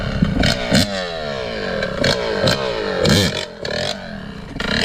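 A motorcycle engine revs in repeated throttle blips, rising and falling whines with clattering mechanical noise, loud and close, while the rider works to keep the bike up on its back wheel.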